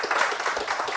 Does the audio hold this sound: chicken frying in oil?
no